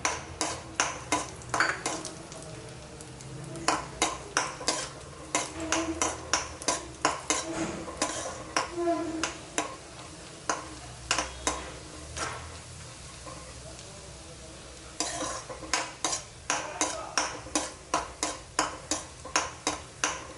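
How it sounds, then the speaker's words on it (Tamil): Cashews roasting in ghee in a pan, stirred with a metal spoon that ticks and clinks against the pan in quick irregular bursts, loud near the start and again toward the end, over a quiet background. "முதல்ல முந்திரியை வறுத்து வச்சுக்குவோம்"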